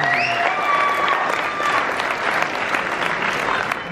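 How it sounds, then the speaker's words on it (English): Gala audience at a Crohn's and Colitis Foundation Champions of Hope event applauds with full, continuous clapping, a brief whoop-like tone riding over it early on before the crowd noise carries on steadily. "round of applause for Mason"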